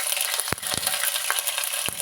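Cumin and mustard seeds fry in hot oil, a loud, close, continuous sizzle broken by several sharp pops and crackles as the seeds burst.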